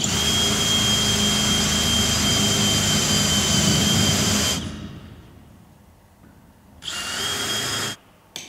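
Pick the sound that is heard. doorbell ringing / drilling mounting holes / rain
drilling mounting holes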